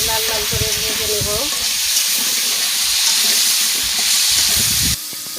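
Potatoes fry in mustard oil in a pan on a stove, giving a loud continuous sizzle with some stirring. A tonal hum sounds at the start, and the frying stops abruptly near the end.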